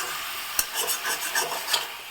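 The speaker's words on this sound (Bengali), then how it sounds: "চিকেনটা দেওয়ার পর খুব ভালো করে আমি মশলার সাথে মিশিয়ে নিচ্ছি" Chicken being mixed with spices in a pan over a medium flame for a light home-style dish, heard as a short run of close scraping and stirring strokes with one sharp knock near the start, alone.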